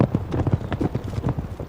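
Hooves of a cavalry horse clip-clop in a steady, fairly close rhythm of repeated thuds, with no talk over them.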